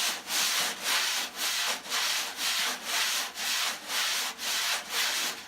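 Steady rhythmic brush sweeps across a drum head, a soft swishing scrape repeating about twice per second, close and alone.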